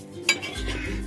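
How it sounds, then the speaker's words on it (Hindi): Pakoras are stirred through besan kadhi in a metal pot, with a sharp spoon clink against the rim followed by a steady low bubbling simmer, close up, with no talking. "और इसे हम अच्छी तरह ऐसे चलाते रहें ताकि पकौड़े में जो है रस भर ले इस तरह।"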